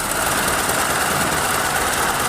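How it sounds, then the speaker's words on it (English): A jet-engined hydroplane runs on land with flames coming from its engine, giving a loud, steady, dense roar that holds constant without pause. "It's a jet-engined hydroplane."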